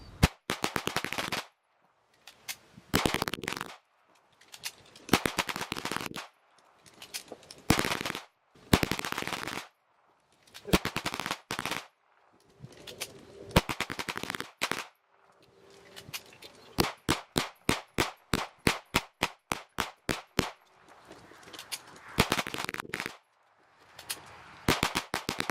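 Tisas BR9 9mm pistol fired in an endurance test, sharp close shots in quick strings and bursts separated by short pauses, including a long rapid run of evenly spaced reports, with no talking.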